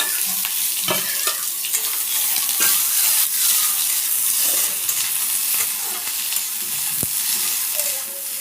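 Onion and garlic fry in a pan while being stirred, giving a steady, close, fairly loud sizzle with scraping stir sounds throughout.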